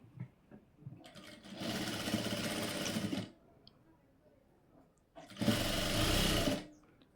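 An electric sewing machine stitching blouse fabric in two bursts, each a dense, steady whirring run of about one to two seconds, separated by a quiet pause with faint handling noises.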